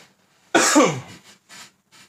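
A single loud, harsh cough up close, followed by a few softer breathy hacks trailing off.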